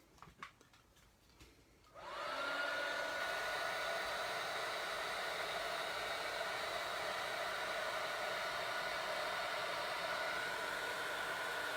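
A hair dryer starts after a couple of seconds of quiet handling sounds and then blows steadily, loud and close, with a constant whine over a broad rushing hiss while it dries ink on paper.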